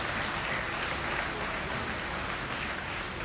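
Steady audience applause at an awards ceremony, a faint, even wash of clapping heard from a distance with no breaks.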